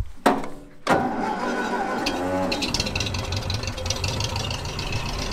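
A farm vehicle engine starting for potato harrowing: a couple of sharp mechanical clunks, then the engine catches and settles into a steady, close rumbling idle with some higher mechanical rattle.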